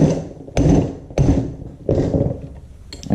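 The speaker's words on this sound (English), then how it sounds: "So I'm going to take this bolt off first" A wrench turns a bolt out of a Farmall Super MTA tractor oil pump, heard as three or four separate ratcheting, grinding strokes with short pauses between them, close and moderately loud.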